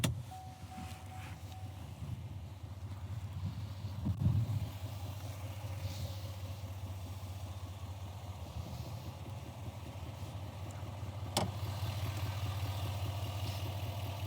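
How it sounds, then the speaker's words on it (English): A GMC Sierra 2500HD Denali diesel pickup idles at a steady, faint low rumble with light clatter, and a few brief knocks and clicks sound over it. "we're going to fire this up and I'm going to jump out and pop the hood because I'm sure everyone wants to hear that diesel engine"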